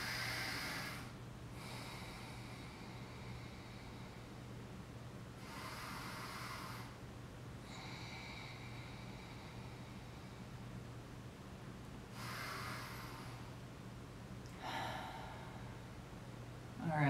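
Slow, deep breaths drawn in and let out during a guided yoga session, each airy inhale and exhale rising and fading every few seconds over a steady low hum, close and unhurried with no talking.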